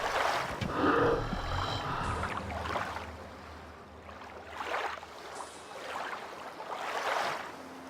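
Ocean waves in the Gothic 2 video game roll in as broad, loud surges that swell and fade every second or so, with wind noise and low game ambience running underneath.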